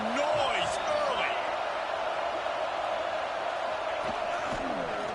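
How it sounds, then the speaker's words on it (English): A stadium crowd roars steadily in the College Football 26 video game, a loud continuous wash of cheering with whistle-like calls rising above it, under a commentator's voice. "This crowd bringing the energy and noise early."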